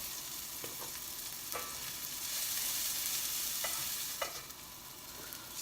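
Shallots and garlic sizzling steadily in a pan over moderate heat, a soft continuous hiss with a few light clicks of stirring, faint and close, no voices.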